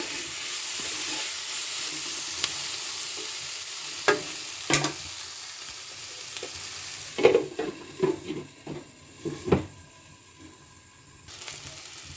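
Masala frying in a pan after a pinch of amchur (dry mango powder) goes in, with steady soft sizzling and a run of close stirring scrapes and knocks from a spoon in the middle, no talk.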